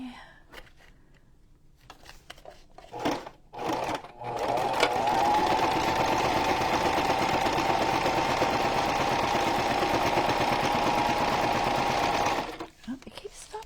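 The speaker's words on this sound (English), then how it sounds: "I'm doing a little bit of a back stitch on each side." A sewing machine back stitching a paper bag pocket for a junk journal whirs steadily and loudly for several seconds after a few brief starts, close up, then stops; no talk over the running motor.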